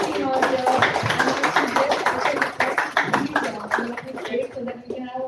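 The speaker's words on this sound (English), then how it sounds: "Can we have a huge round of applause for the entire team out there?" Applause from an audience at a film trailer launch event, a dense run of many claps continuing for several seconds while a voice speaks over it, then thinning out toward the end.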